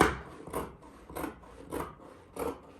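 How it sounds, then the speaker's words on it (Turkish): Fabric for a tracksuit top being cut with a seam allowance, heard as about five evenly spaced, soft, crisp cutting strokes, close and quiet, with no voices. "Şimdi dikiş payı vererek kesiyorum."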